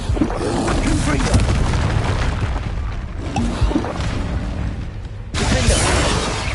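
Confringo spell blasts in the game Hogwarts Legacy, loud rumbling booms and crashing bursts rolling through the scene with a sharp new blast near the end, voices over the top.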